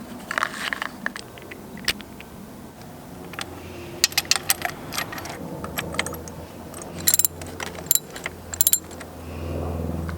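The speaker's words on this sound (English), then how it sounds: "you should be able to find the spark plug tool, so you can use that to get the old ones out. And then screw the new ones in." Metal clicks, ratcheting and light clinks come from a spark plug tool removing and fitting spark plugs on a Kawasaki ER-6n motorcycle, scattered close taps over a quiet background.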